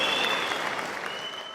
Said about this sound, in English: So I wanted to give him a horn and also a hand clap as well.